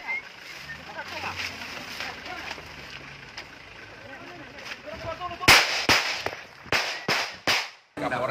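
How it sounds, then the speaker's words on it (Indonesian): Gunfire exchange between police and terrorists, a rapid series of sharp cracking shots near the end following a stretch of murmuring voices and background noise. "Kontak tembak pun terjadi."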